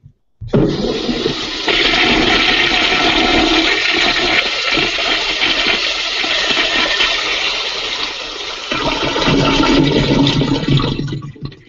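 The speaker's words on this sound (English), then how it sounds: "why do we flush this down the toilet, Nay?" A toilet flushes loudly and close, a long rushing gush of water that swells, settles and surges again before cutting off, with no voices over it.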